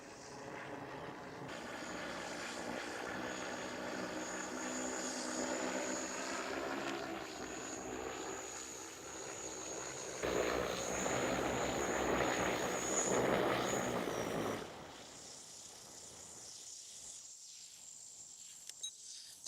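A Freefly Alta UAV drone flies in to land outdoors, its rotors giving a steady whining buzz with a high tonal hum that swells as it nears, then drops off sharply near the end.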